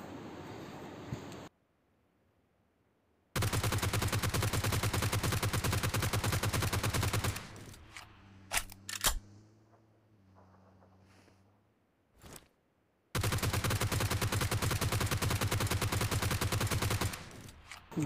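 Automatic gunfire in PUBG Mobile, loud and sustained in two long continuous bursts separated by a pause with a few scattered single shots and quieter game sounds.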